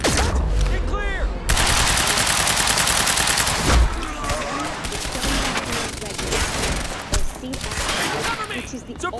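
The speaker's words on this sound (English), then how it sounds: "Which is the suppressing fire!" Suppressing gunfire in the video game Quantum Break comes as dense, rapid bursts of automatic shots with overlapping fusillades and sharp cracks. Shouted voices and clatter mix in throughout, loud and near.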